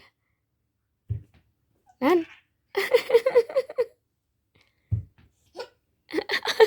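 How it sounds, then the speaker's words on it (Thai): A baby hiccups, giving two short, sharp hiccups a few seconds apart, mixed with nearby giggling and an adult talking. "เด็กน้อยสะอึก"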